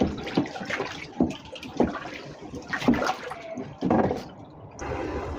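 Liquid soap ingredients pour into a bowl in a few uneven splashing bursts, close by, with brief pauses between pours.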